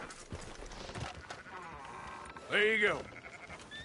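Sheep bleat once in Red Dead Redemption 2, a loud, wavering call rising over a game scene with a voice speaking just before it and hooves clip-clopping faintly underneath.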